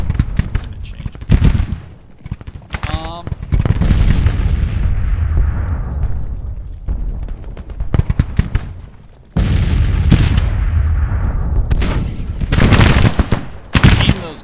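Gunfire and cannon booms from a Civil War strategy video game: loud, repeated volleys and heavy blasts in clustered bursts. Quieter gaps fall between them, and a voice speaks in spots.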